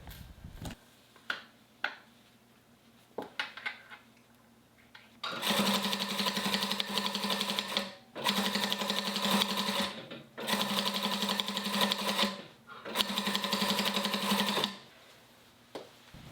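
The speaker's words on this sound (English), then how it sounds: "stitch your 2 outer stocking pieces together from the top right edge to the top left edge." A sewing machine stitches Christmas stocking pieces together, running loud and steady in four long bursts separated by brief pauses, after a few quiet clicks and handling noises at the start.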